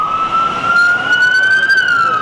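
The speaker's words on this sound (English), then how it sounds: "All these ambulances and fire trucks and police vehicles, and that noise was so overwhelming." A loud emergency siren wails steadily close by at the Boston Marathon, its pitch slowly rising and falling over a background rumble of traffic, amid ambulances, fire trucks and police vehicles.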